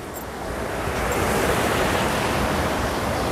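River water pours through the main inlet into a fish pond, a loud, broad, continuous rushing roar that swells slightly and holds steady, with no voices.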